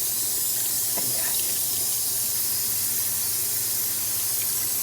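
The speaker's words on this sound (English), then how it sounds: "we're just going to go ahead and rinse it off with some hot water" Hot tap water runs steadily into a kitchen sink as an item is rinsed off, a constant hissing splash with a few small clinks near the start.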